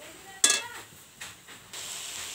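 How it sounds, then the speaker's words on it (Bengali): Shredded cabbage frying with onion, garlic and ginger masala in a pan, heard as a soft steady sizzle broken by a sharp metallic scrape and a few lighter stirring knocks, close and moderately quiet, with no talk. "এবার এটা এটা আমি ভালো করে মশলাটা কষাবো বাঁধাকপির সঙ্গে এবং মশলাটা ভালো ভাজা করবো।"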